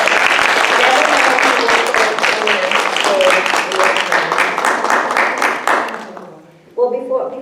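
An audience at an International Women's Day celebration cheering and applauding for the women, sustained loud clapping with whoops for several seconds that tapers off, followed by a voice starting to speak.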